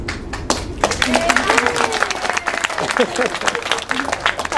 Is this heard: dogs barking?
no